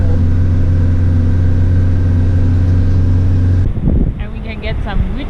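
Van engine while driving in winter in Sweden, a loud, steady low drone that cuts out abruptly near the end, followed by a voice speaking.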